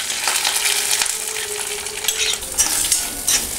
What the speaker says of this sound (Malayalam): തേങ്ങ നല്ല ബ്രൗൺ നിറമാവുന്നത് വരെ സിമ്മിലിട്ട് വറുത്തെടുക്കാം